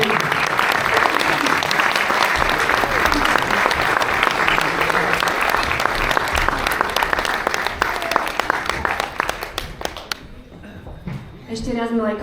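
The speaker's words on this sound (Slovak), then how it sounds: "Takže ešte jeden veľký potlesk." Loud, sustained applause from an audience at a school Christmas program, dense clapping throughout, with voices and cheers mixed in and the clapping thinning out toward the end.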